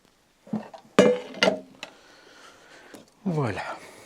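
Utensil clinking against a bowl while cornbread batter with caramelized onions and thyme is mixed, a few sharp clinks and scraping strokes close by, with a brief voice in between.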